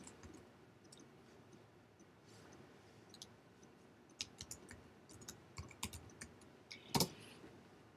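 Someone types on a computer keyboard with faint, scattered keystroke clicks. The clicks cluster in the second half, and a sharper tap comes near the end over a quiet room background.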